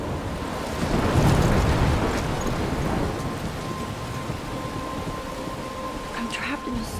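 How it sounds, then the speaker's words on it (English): Heavy rain pours steadily in a stormy scene from the video game Life Is Strange, with a deep rumble of thunder swelling early on and a constant wash of rainfall continuing throughout. "I'm trapped in a storm?"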